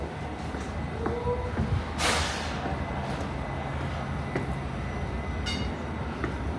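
NYC subway train pulling out of the station: a steady rolling rumble with a brief hissing burst, faint squeals and chimes over the constant rail noise, no voices.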